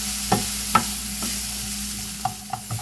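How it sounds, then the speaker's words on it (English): Vegetables sizzle gently in a pan while a utensil stirs them, leaving a few distinct scraping knocks spaced irregularly over a soft, steady frying hiss, with no voices. "I'm going to stir these around and cook them down till they're nice and translucent"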